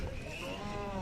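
A cow at a Khillar cattle market in Sangola, Solapur gives a brief, steady low moo amid a busy outdoor market din.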